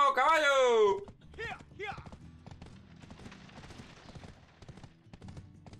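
Horse hooves in the Black Desert video game clip-clop in a quick irregular rhythm under a loud opening neigh, with a person talking over the game sounds.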